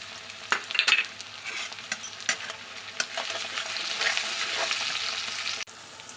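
Onion frying in a pan with tomato and salt added: a steady sizzle with scattered scrapes and clinks of a spoon stirring against the pan, close and continuous.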